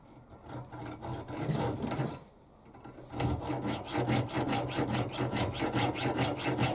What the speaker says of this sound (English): then we'll look at putting some hacksaw cuts in